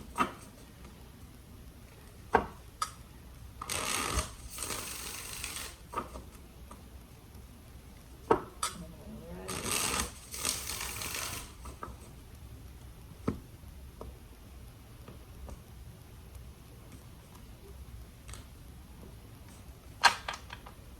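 Tarot cards are shuffled in two soft, riffling bursts, with scattered light taps and clicks of cards between them in a quiet room.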